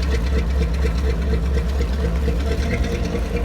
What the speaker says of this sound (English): Yeah, there goes the boat.